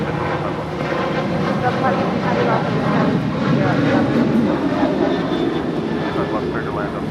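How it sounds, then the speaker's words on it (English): American Airlines Boeing 737-800 jet departing Los Angeles International Airport, a steady broadband roar of engines filling the clip at moderate distance, with people talking underneath. "2308 departing to Raleigh-Durham on a 737-800"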